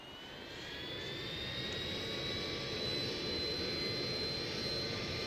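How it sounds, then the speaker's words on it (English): A Citation C-560XL business jet's engine spools up in a flight simulator, a steady whining roar with a rising high tone that swells over the first second and then holds loud and even, with no voices. "Let's go ahead and ignite those engines."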